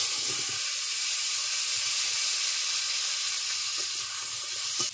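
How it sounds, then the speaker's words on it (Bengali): Washed potatoes land in hot oil left over from frying fish, giving a loud, continuous hissing sizzle that fills the whole moment, with a brief clatter near the end. "ধুয়ে রাখা আলুগুলো মাছ ভাজার তেলের উপরে দিয়ে দিচ্ছি।"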